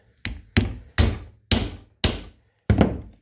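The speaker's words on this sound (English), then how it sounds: "And then hammer it the rest of the way through." Six sharp metal hammer blows ring out at a slow, slightly uneven pace, each a loud close strike with a brief ringing decay, driving a bolt through a polyurethane ATV plow cutting edge.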